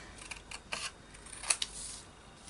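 Scissors cut through a paper napkin for an art journal page, giving a few faint, brief snips and crisp paper rustles close by in a quiet room.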